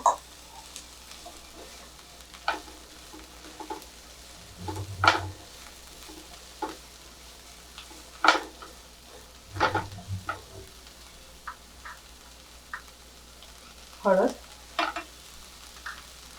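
Mixed vegetables and frozen peas fry in a pan for vermicelli upma, stirred in scattered scraping bursts over a low, steady sizzle, with no talking.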